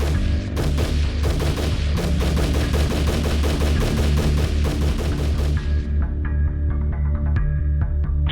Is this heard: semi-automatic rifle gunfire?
yes